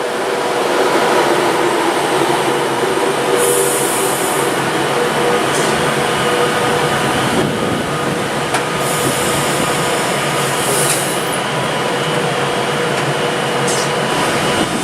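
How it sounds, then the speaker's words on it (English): A Class 390 Virgin train, unit 390-151 bound for London Euston, pulls away from Warrington Bank Quay on the West Coast Main Line with a loud, steady rumble and electric hum, broken by occasional higher whines and squeals. "Now departed is 390-151 with Virgin Ambassador and the Business is Great branding"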